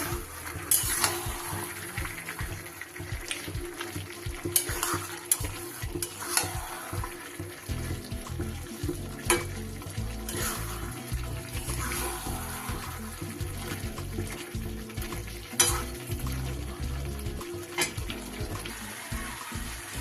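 Mutton curry with fried potatoes is stirred in a frying pan, with uneven scraping strokes and soft knocks of the spoon over a constant oily sizzle, close and unaccompanied by speech.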